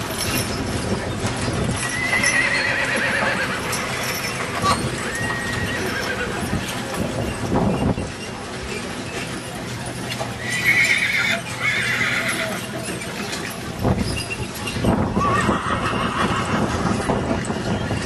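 Horses at a county fair horse show, with steady clip-clop of hooves and repeated neighs and whinnies over a busy outdoor crowd ambience, fairly loud and continuous throughout.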